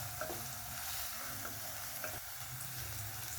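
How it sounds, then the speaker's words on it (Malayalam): Onions sautéing in a pan over medium-high flame for a soya chunks curry, a steady close sizzle with faint stirring scrapes, no voices. "ഉള്ളി ഒരു നല്ല ഗോൾഡൻ ബ്രൗൺ കളർ ആവുന്നിടം വരെ വഴറ്റിയെടുക്കാം"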